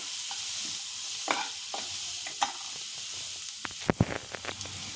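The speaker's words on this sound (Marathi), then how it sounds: "आता हे सगळ्याला एकत्र आपण छान परतून घेऊया बटरमध्ये" Onion, garlic and ginger sauté in butter for creamy tomato soup: a soft, steady sizzle broken by sharp spoon clicks and scrapes against the pan, with a cluster of stirring knocks near the end.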